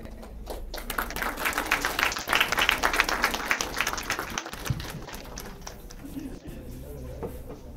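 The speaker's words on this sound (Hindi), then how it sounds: "जोरदार तालियों से आप भी सहयोग दें" An audience at a college poetry and cultural event breaks into loud, sustained applause that swells, then thins out toward the end, with some murmuring underneath.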